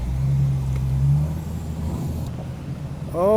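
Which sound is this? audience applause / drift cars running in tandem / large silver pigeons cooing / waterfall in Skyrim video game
drift cars running in tandem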